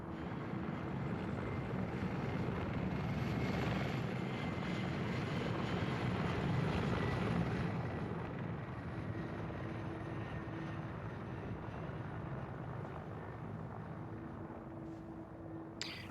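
A Mi-24 attack helicopter in a video game, a continuous loud rotor and engine drone that holds steady throughout, close and dominant, with no talk.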